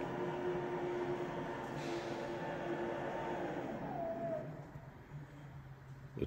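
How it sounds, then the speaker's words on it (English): The powered tailgate of a Toyota RAV opens automatically with a steady electric motor whine that ends in a soft mechanical stop, close by and alone. "An automatic boot."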